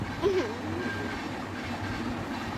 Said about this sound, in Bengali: দেখ ট্রেনটা কিরম নিচে নিচে যাচ্ছে